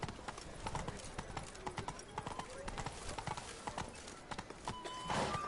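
Rapid clip-clop of the horse Roach's hooves galloping in a video game, steady and close, with a brief whinny and a voice talking over the hoofbeats.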